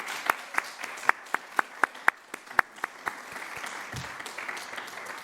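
Applause for the graduates at a spring DrPH commencement and hooding ceremony, with a few loud individual claps standing out in a steady rhythm over a soft crowd patter that fades toward the end.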